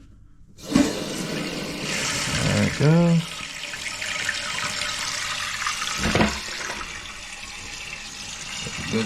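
A repaired toilet tank fills with water after the supply is turned on, a steady rushing hiss with brief gurgles and knocks; a person speaks briefly over it.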